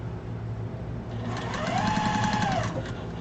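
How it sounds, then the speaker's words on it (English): A sewing machine chain sews small fabric patches for a pillow or wall hanging, starting with a low hum and building into a fast, steady stitching rattle up close. "I'm just going to take these 2 and chain sew them"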